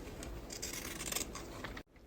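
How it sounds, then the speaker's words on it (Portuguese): Pinking shears snip along the curved edge of an apron's fabric, giving a steady, close crunchy cutting sound that runs for almost two seconds and then stops abruptly. "a gente vai cortar com a tesourinha de picote a parte curva"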